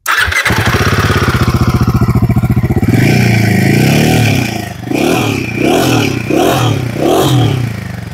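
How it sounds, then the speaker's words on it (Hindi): A Royal Enfield Himalayan 450 motorcycle engine cranks and catches, then runs with a steady thumping idle broken by several sharp revs, loud and close. "चलो बाइक शुरू करके देखते हैं।"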